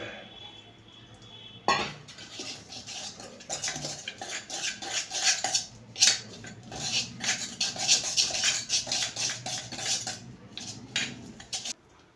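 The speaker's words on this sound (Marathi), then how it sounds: "ती आता एका पातेल्यामध्ये काढून घेऊया आणि थोडंसं दूध टाकून फेटून घेऊया" Biscuit cream and milk are whisked in a metal pan, the utensil scraping and clinking steadily and close by for several seconds after a quieter start, with no one speaking.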